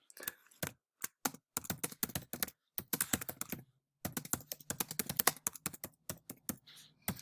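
Fingers type on a computer keyboard in quick, irregular bursts of clicks with brief pauses, heard close but fairly quiet, with no speech over it.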